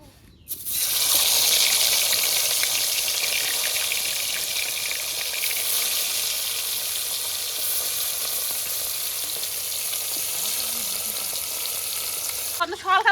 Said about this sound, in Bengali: তেল গরম হয়ে গেছে এলা মাছগুলো দিয়ে দিন